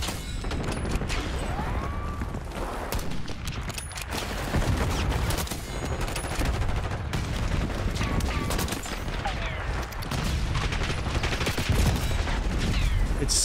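Rapid, dense gunfire in Black Ops 6 while a player is sniping, crackling and booming almost nonstop for the whole stretch at a steady moderate level, with a voice faintly underneath.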